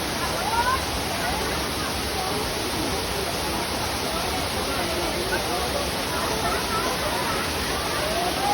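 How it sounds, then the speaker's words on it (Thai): A powerful waterfall, swollen after a storm, roars with dense, constant rushing noise throughout, with no break in its loud, even wash. "วันนี้น้ำตกแรง"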